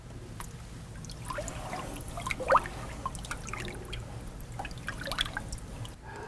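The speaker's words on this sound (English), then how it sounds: "reach my arm in here and stir this up so that we can dissolve all the soap" An arm sloshes through a tub of water to dissolve electric dishwasher detergent, producing faint, steady trickling and light splashing with a few small drips over a low background hum.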